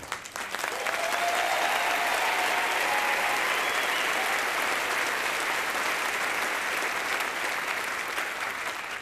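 Sustained applause from a large audience at the 2014 Musial Awards broadcast, steady and loud throughout, a broad wash of clapping with no break.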